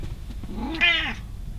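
A cat gives a single short, rising meow, close and clear over a quiet room hum.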